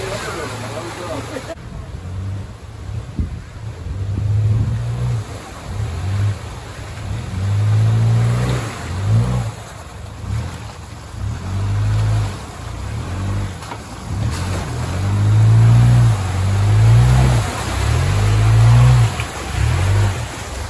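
An off-road vehicle stuck on a muddy track on a tough UK course, its engine revving in repeated surges and drops with a deep, loud throb. People talk over the engine throughout.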